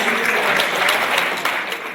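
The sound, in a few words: applause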